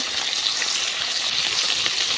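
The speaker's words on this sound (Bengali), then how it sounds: "মাছগুলো কড়াইতে দেওয়া হয়ে গেছে" Fish frying in hot oil in a wok, a loud, dense, continuous close-up sizzle with no pauses or talking.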